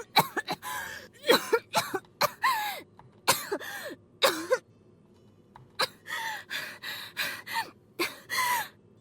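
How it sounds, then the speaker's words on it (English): A woman coughs violently and chokes after spitting out water: a rapid string of harsh, gasping coughs in bursts separated by short pauses, close and loud. "Then she began coughing violently and choking."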